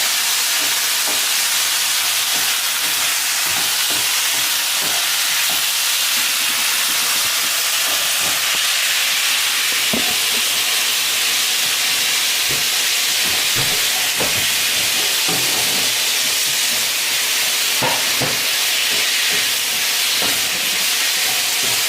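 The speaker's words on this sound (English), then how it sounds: "fry up the chicken nicely so each side is fried" Chicken pieces frying and searing in a hot pan, a steady loud sizzling hiss with scattered crackles and pops throughout, no talking.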